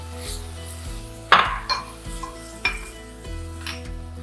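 Vegetable broth mixture stirred in a pan, with a spoon knocking and scraping against the metal in an uneven rhythm over a faint background hum, close by.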